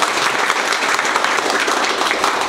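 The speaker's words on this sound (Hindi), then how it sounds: "जोरदार ताली बजाओ भाई।" A class applauding loudly for a teacher, dense continuous clapping from many hands close by, with no talk over it.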